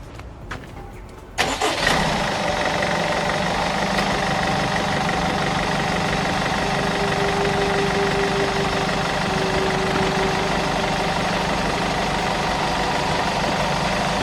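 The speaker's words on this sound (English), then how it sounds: "So now we're going to start the engine." A Honda car engine cranks and catches after a quiet moment, then settles into a steady, close idle that rumbles on without a break.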